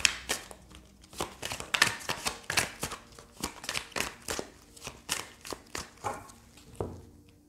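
Tarot cards being shuffled and drawn by hand, a steady run of close, crisp flicks and slaps repeating roughly twice a second, with no voice over them.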